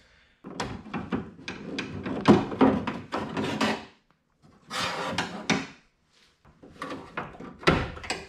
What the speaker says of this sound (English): pry the little barb up as you pull up on the scraper, and then one by one you can work the whole thing out